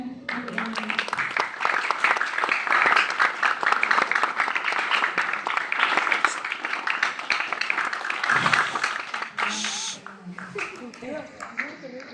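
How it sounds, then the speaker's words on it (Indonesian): A crowd at a Monday morning Indonesian flag ceremony breaks into sustained applause, a dense hiss of many hands that fades out after about ten seconds with a few voices around it. "Terima kasih untuk petugas upacara hari ini. Mohon tepuk tangannya."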